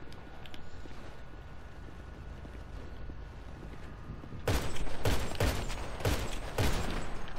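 Gunfire in GTA V Online: after several seconds of quiet game ambience, a burst of loud, close shots starts at mid-clip and continues in rapid clustered volleys to the end.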